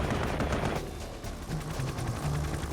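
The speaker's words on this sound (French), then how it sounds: "Les hélicoptères de secours sont de nouveau la cible des tirs anti-aériens" Anti-aircraft gunfire aimed at rescue helicopters, heard as dense, loud continuous bursts of automatic fire with rapid rattling reports throughout.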